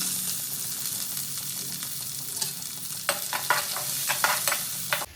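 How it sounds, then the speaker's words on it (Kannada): Onions frying in a hot pan, a constant close sizzle with a run of sharp scraping stirs toward the end. "ಫಸ್ಟ್ ನಾನು ಈರುಳ್ಳಿ ಹಾಕೋತಿದ್ದೀನಿ."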